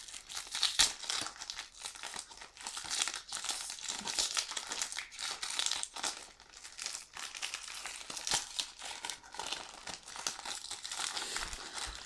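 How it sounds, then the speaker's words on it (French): A Korean trading card booster pack is torn open by hand, with continuous loud crinkling and crumpling of thin foil wrapper, sharp tearing bursts and rustling paper close by for about twelve seconds. "Les boosters coréens sont très compliqués à ouvrir à la main."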